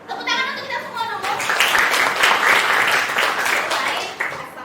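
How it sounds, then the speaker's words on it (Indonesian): Applause from a seated audience at a school teachers' presentation, a dense sustained wash of clapping lasting several seconds, loud and close, with a voice speaking briefly at the start before the clapping swells. "Tepuk tangan untuk kita semua dulu."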